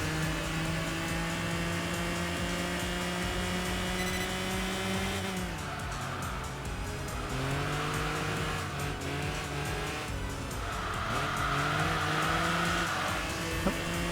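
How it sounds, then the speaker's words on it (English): A Nissan RB26 engine revs hard in the Enthusia racing video game, a sustained high-pitched wail with rising and falling pitch sweeps, blended with tire squeal during wheel spin and a brief slide. "That RB26 is just going for it. Just revving the heck out of this car."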